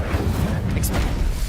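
Incendio fire spell cast in the game Hogwarts Legacy, a loud, dense low rumbling whoosh of flame that fills the whole moment without a clear attack.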